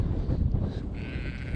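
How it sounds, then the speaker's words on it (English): Sheep bleating outdoors on a farm, a continuous low wavering cry lasting under two seconds, fairly close, with light wind noise in the background. "That's our zombie sheep."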